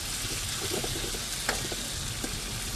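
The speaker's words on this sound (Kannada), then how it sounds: "ಅಂದ್ರೆ ಇದು ಫ್ರೈ ಮಾಡ್ತಾ ಇದ್ದೀನಿ ಆಲೂಗಡ್ಡೆ." Potatoes fry in a pan while being stirred, a steady hiss of sizzling oil broken by soft scraping and a few small clicks from the utensil, close and alone.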